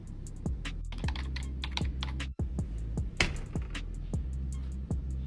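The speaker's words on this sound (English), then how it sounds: "Would you ever use this enter button?" Computer keyboard keys, including the enter key, clicking in a steady rapid run of close, crisp taps, with a firmer press partway through, and no voices.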